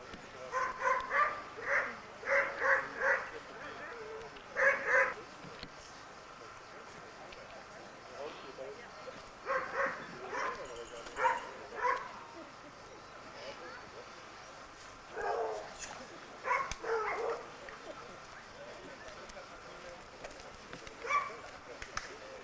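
Dogs bark and yip in repeated bursts across the stretch, fairly distant, during a mock attack on a horse, with steady background noise and occasional faint voices.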